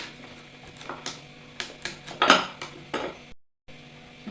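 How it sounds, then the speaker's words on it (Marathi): A knife cutting red pumpkin into medium pieces on a board, with a series of separate thuds and clicks of the blade, one louder chop partway through, then a short pause. "आता हा भाग कट करून घ्यायचा आहे हे बघा आता आपल्याला फोडी करायची आहेत"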